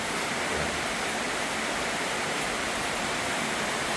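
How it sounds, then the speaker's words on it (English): Heavy typhoon rain pours steadily outside during Typhoon Carina in the Philippines, a dense, continuous, loud hiss of water with no breaks and no voices. "the rain's picking up again. You hear that?"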